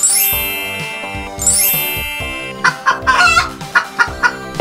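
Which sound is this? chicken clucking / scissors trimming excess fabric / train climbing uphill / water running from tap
chicken clucking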